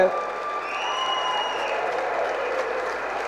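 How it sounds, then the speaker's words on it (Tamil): Applause from a large crowd at a Tamil film audio launch, a steady wash of clapping that fills the hall, with a faint tone running over it. "அவரை கொஞ்சம் எழுந்திருக்க சொல்லுங்கள், அவர் கைத்தட்டுங்க எல்லாம்."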